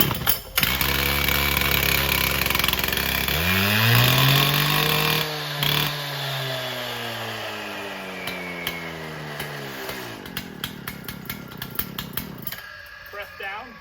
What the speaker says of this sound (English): Once it tries to start, work to the back of the saw and work it down 1 click to half choke.